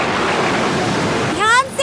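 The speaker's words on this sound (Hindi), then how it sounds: "लहरें बहुत ज्यादा तेज हैं। समुद्र में बहुत तूफान आते हैं, लहरें बहुत बड़ी हो जाती हैं।" Big stormy sea waves surge in a loud, continuous rushing wash in an animated Hindi children's story, with a brief voice rising over the water near the end.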